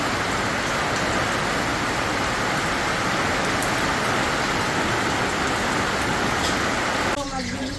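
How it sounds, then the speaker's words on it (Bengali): Heavy, steady rain pours down without a break, a loud broadband hiss that ends abruptly just before the close as a voice starts speaking. "দেখেন আপনারা কিভাবে বৃষ্টি হইতেছে, সকাল থেকে বৃষ্টি হইতেছে, প্রচন্ড বৃষ্টি।"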